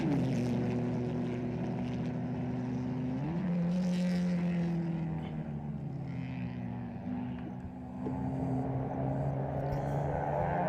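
Several Honda race motorcycles of a one-make open category race circle on a formation lap, their engines a steady continuous drone that shifts pitch partway through, heard alone at moderate distance.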